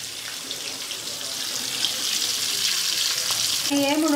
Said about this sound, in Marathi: आणि पहा त्याच्यामध्ये ती मिरची छान आपली भाजली जाते, छान खरपूस भाजली जाते ती